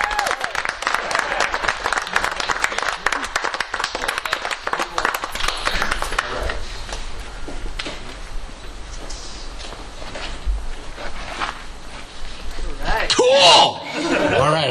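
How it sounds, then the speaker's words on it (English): Audience applause and cheering greet a guitarist at a Dean Guitars clinic held at a Gearhounds store, dense clapping filling the first half and then thinning, with crowd voices and a loud burst near the end. "let's have a big round of applause for Mr."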